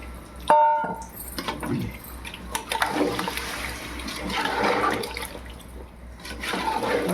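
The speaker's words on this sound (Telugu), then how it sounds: "ఇప్పుడు నీళ్ళు వేసేసుకుందాం" Water poured into a pot of curry with pieces of ash gourd, mango and dried fish, a loud splashing, gurgling pour running steadily for several seconds after a brief clink, with no talk.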